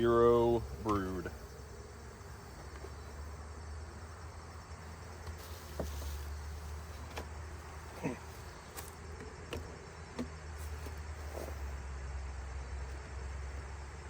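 Bees drone around an open beehive during a mid-October final check, a low continuous buzz throughout with occasional louder passes close by and a few faint clicks.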